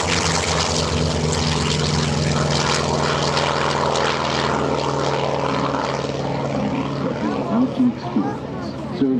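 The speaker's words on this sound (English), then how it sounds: "the sound of a piston-powered, propeller-driven aircraft of World War II in Korea on your left" A propeller-driven F4U Corsair, a piston-engined World War II fighter that served in Korea, drones loudly overhead at an air show with a steady engine roar, while an announcer talks over it.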